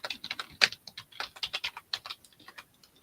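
Rapid, irregular keystrokes on a computer keyboard, close and fairly quiet, with one sharper clack early on and no talking over the clicks.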